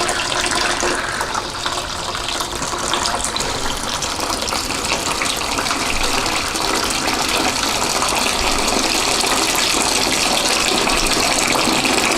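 Water pours steadily to rinse the grains of a pumpkin bourbon mash during sparging, a loud continuous gushing hiss that stays constant and close throughout.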